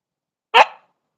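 A single sharp dog bark, close and loud, with a short tail fading out, surrounded by silence.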